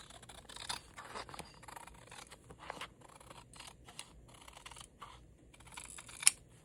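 Scissors trim the top edge off paper pages for a handmade vintage Christmas journal, a series of quiet close snips and rustling paper scrapes with a sharper cut near the end.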